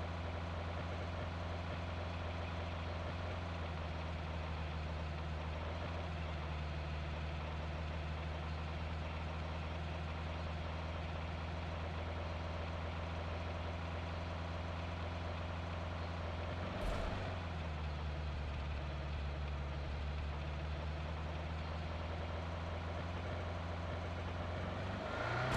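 Vehicle engine idling in PUBG Mobile, a steady low rumble that holds evenly for the whole stretch, with one brief click-like transient near the middle and no voices.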